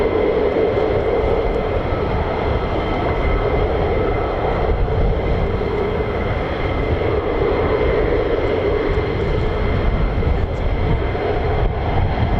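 A US Air Force fighter jet of the 48th Fighter Wing taxis out at RAF Lakenheath, a continuous engine roar with a whining edge holding steady at a moderate distance, with no voices.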